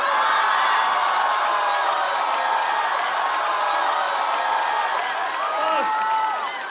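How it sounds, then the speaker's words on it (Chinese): A stand-up comedy audience bursts into loud, sustained applause and cheering with whoops, a continuous wash of clapping and crowd noise at the close of a set. "掌声！"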